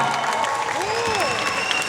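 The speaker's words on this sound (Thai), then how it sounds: "เราขอเสียงปรบมือให้นักดนตรีทุกคนอีกรอบด้วยนะครับ" Brief crowd applause for the musicians at a big concert, a busy patter of clapping under sustained and gliding musical tones.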